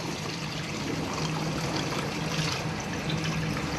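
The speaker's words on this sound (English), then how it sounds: "Water's coming up to the first floor now." Hurricane Katrina floodwater in Gulfport pours steadily into a room through an air conditioning vent, a continuous close rushing, trickling wash with no talk.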